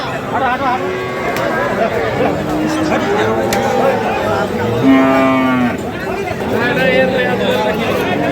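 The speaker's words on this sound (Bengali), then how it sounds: "খুলে দেখাচ্ছে গরুটাকে আমরা দেখছি গরুটাকে" Sahiwal bulls and other cattle moo loudly several times over a busy crowd at the Ambari cattle market, with people chattering and calling nearby throughout.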